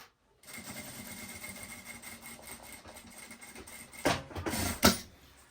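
A sewing machine stitches along a fanny pack zipper, a steady close whir that runs for several seconds and ends with a couple of louder knocks from the mechanism.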